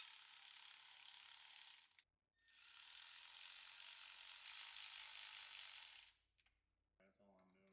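A ratchet threads bolts into an Audi differential brace, two long runs of rapid clicking close up, separated by a brief pause, followed by a faint thump.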